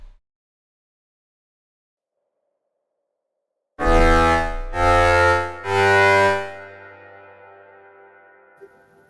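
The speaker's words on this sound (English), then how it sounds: "Let's put a little bit of attack and a little bit of release and a little bit of unisono and also a little bit of reverb." VECTRA synthesizer playing three sustained harmonic-rich chords with soft attack, unison thickening and reverb, each swelling then held, the last one's tail fading slowly into silence; nothing else is heard.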